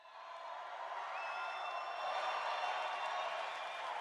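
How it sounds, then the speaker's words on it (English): Crowd applause as Trump is introduced on stage at a Bitcoin conference: a faint, even wash of clapping with scattered cheers that holds steady throughout. "This was the applause he got when he was introduced on stage."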